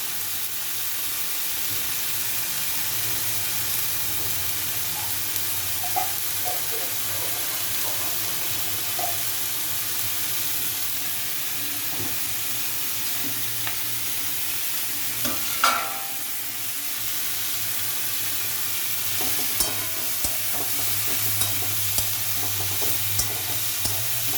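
Soybean chunks and cauliflower curry sautéing in a pan: a steady, fairly loud sizzle runs throughout, with occasional spoon scrapes and clinks, and no voices.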